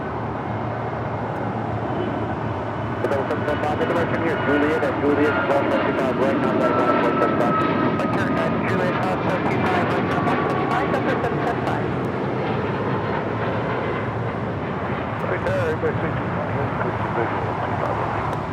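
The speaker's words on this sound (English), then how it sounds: "This is United 2373 taking off to Kailua Kona on a MAX 9." A United Boeing 737 MAX 9 taking off from LAX, a loud sustained jet engine roar close by, with wind buffeting and people talking faintly underneath.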